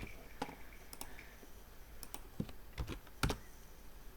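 Typing on a computer keyboard during a software demo: scattered sharp key clicks in uneven bursts, close and fairly quiet against a soft room hiss, with no voices.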